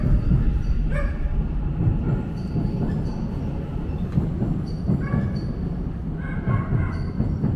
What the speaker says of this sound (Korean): 멍멍이가 있어서 깜짝 놀랐네.